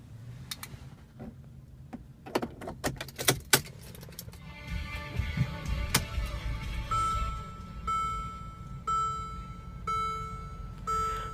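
Inside a 2015 Mercedes-Benz GLA 250 4Matic at startup: keys and clicks, then the engine catching with a low rumble, followed by a settled idle under repeated chime beeps, heard from the driver's seat.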